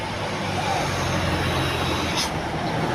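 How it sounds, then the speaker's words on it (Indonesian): A large tour bus rumbles past close by on a road in western Cilacap, Indonesia, its loud engine and road noise forming a continuous roar. "dari arah timur ini ada bus pariwisata"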